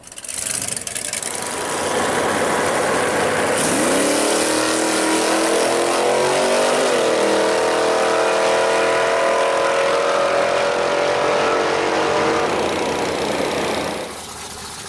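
A gasser drag race car idles, then its engine rises in a long, loud, sustained rev on a test run at the Gulfport track, and the sound drops away near the end.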